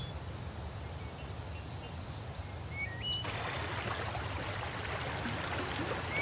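Water runs steadily in a wild stream somewhere in the Siberian landscape, a constant close rush. Several thin, high bird calls chirp above it, and the flow grows slightly brighter midway through.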